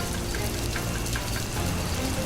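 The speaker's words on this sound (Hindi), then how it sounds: "बारिश की बूंदें तेजी से घर में गिरने लगती हैं" Heavy cartoon rain pours and drips through a thatched roof, a dense, steady patter of drops that stays loud and unbroken throughout with no voices.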